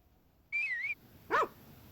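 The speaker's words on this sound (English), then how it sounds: "We can't find the dog, so we're going to give him a little whistle." In the Harvest Moon: Back to Nature video game, a short, wavering whistle calls the dog, followed after a brief pause by a single bright bark against a quiet background.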